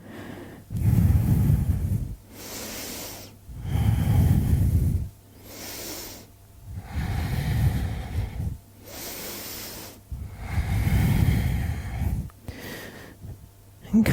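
Deep, steady breaths held in a power yoga flow pose, each slow inhale and exhale rising and falling in a regular rhythm about every few seconds, close and fairly loud.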